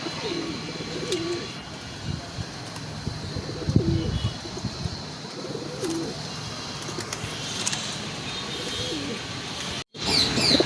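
Pigeons kept in a loft for sale coo softly and intermittently at close range, with a few chirps and a brief wing flutter over a busy background.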